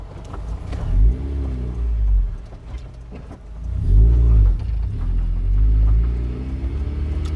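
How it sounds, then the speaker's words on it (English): A Mazda MX-5 with a welded differential idles and creeps through a five-point turn, its low engine rumble swelling with each manoeuvre while the tyres skip and judder under load. "Can you hear the tyre skipping?"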